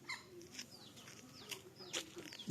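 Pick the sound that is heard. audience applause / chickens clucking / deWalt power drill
chickens clucking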